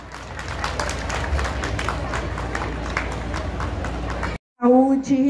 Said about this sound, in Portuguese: Aplausos, público presente.